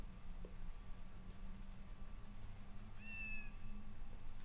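A cat meows once in the Harry Potter and the Philosopher's Stone PS1 video game, a short rising cry near the end over steady game music and ambience.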